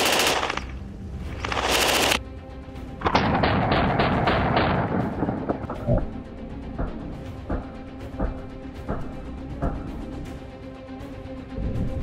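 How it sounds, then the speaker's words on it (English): A PPSh-41 submachine gun in 7.62x25 fires loud, sharp shots: a couple of heavy early blasts, then a rapid burst, followed by scattered lighter cracks and echoes across the range. "I'll fire a few shots from the PPSh now"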